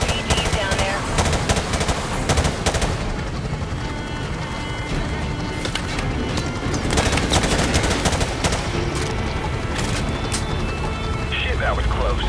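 Dense gunfire in Call of Duty Modern Warfare Remastered, with rapid machine-gun bursts and shots crackling continuously throughout, loud and close, mixed with battle noise and radio voices.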